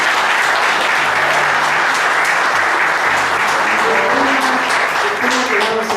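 Sustained, full-room clapping greets guitarist Julio Ferro at a book presentation. The applause holds at an even level, with faint tonal sounds underneath toward the end.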